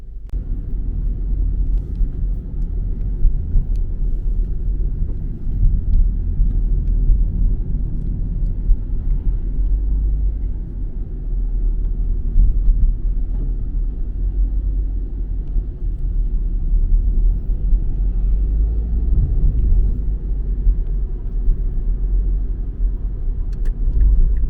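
A car cruises through sunny Osaka city streets, its engine and road noise making a steady low rumble from inside the cabin with no talking.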